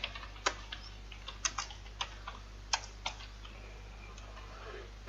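Keystrokes on a computer keyboard while writing HTML code: sparse, irregular clicks in short bursts, faint and close against a steady low hum, with no voices.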